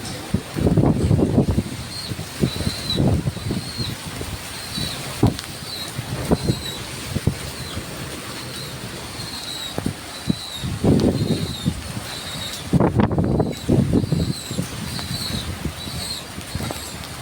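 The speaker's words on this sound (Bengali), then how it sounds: "ঝড়ের বাতাসের বেগ খুব" Strong wind from Cyclone Remal gusts and buffets the microphone in surging blasts, with steady roaring in between, on a rooftop garden.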